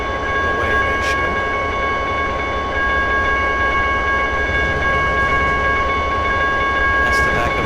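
A freight train rolls along in the Trainz 2010 rail simulator at night, a continuous steady rumble and rail drone with sustained tonal hum, while someone talks over it.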